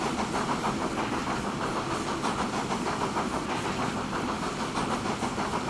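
Trains running in the Transport Fever 2 video game, a steady rumbling, hissing rail sound with a rhythmic clatter that continues at an even level throughout, with no voices.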